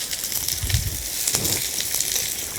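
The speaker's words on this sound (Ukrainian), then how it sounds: "Карамелізуємо зараз цибульку, от, кидаємо морку" Onion and chopped carrot frying in a pan over an open fire give off a soft, crackling sizzle with a few brief pops and a low thump, steady and moderately close with no talk.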